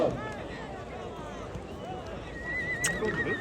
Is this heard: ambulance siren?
no